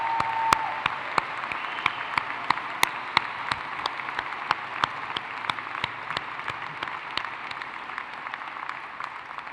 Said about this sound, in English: That is well worth a fulsome round of applause.